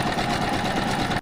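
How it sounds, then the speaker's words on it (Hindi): A cartoon bird's sewing machine runs as a sound effect in a Hindi animated episode, a loud, steady rapid mechanical whirring that cuts off abruptly just before the end. "रानू चिड़िया की सिलाई मशीन की आवाज़ पूरे मोहल्ले में जाती थी"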